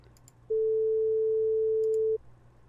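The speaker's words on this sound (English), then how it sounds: "Let's hear what 440 sounds like." A steady pure electronic 440 Hz tone generated in Audacity holds for under two seconds, clean and unwavering, then cuts off, leaving faint background hum.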